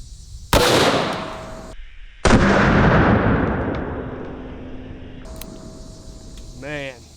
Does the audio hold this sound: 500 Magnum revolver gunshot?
yes